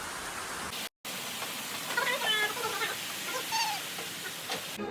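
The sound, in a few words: heavy rain falling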